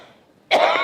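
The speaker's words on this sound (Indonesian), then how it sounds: "batuk aing teh" A single sharp cough bursts out after a brief near-silence, loud and close.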